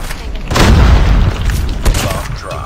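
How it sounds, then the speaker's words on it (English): A loud, booming bomb explosion in the Call of Duty Mobile shooter, a heavy low blast swelling and rumbling for over two seconds with a second thump partway through. "Bomb dropped."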